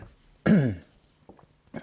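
A single short, breathy cough or throat clear lands near the start, close and moderately loud, followed by a few faint small sounds in an otherwise quiet room.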